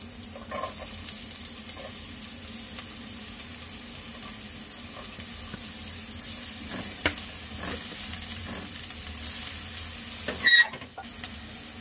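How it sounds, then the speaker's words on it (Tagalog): Garlic and onion sauté in hot oil for macaroni soup, giving a steady, close sizzle broken by occasional stirring clinks and a brief louder scrape near the end, with no talk. "Magigisa na tayo, guys. Bawang at sibuyas"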